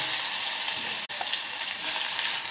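Mustard seeds, cumin and raw mango pieces sizzle in a spoonful of hot oil, a steady close hiss with one brief gap partway through.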